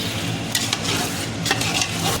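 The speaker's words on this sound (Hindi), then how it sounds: "इसको 2 मिनट तक अच्छे से भून लेंगे" Chicken biryani masala with whisked yogurt frying in a pan, a steady close sizzle broken by several brisk stirring scrapes of a spoon against the metal.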